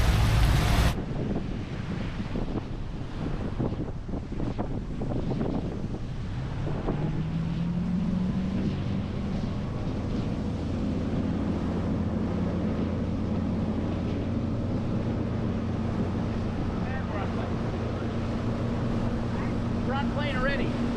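A sailing boat runs downwind in heavy wind, with a continuous roar of wind and water rushing past, an engine-like drone rising in the background, and people talking now and then over the noise.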